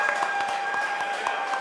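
Audience applause at a Brooklyn hip-hop event, a steady wash of many hands clapping at moderate volume, continuous throughout a short stretch.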